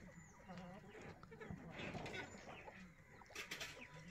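Hens and a long-tailed rooster on a small farm make soft clucking calls close by, with brief scattered squawks over a busy background that stays steady throughout.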